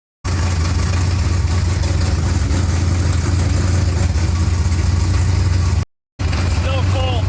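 A cold Pontiac small-block V8 idles with the choke on, a loud, steady, rough low rumble that runs continuously and drops out only briefly near the end.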